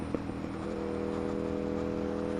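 A motorcycle engine runs steadily close by at a fairly even pitch, a constant whirring drone with a brief blip near the start, and no voices.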